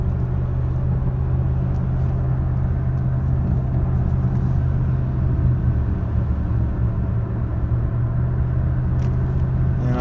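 Steady low engine and road rumble heard from inside a 2003 Dodge Dakota pickup rolling downhill on cruise control with tow/haul mode engaged, continuous and even throughout, with no talking.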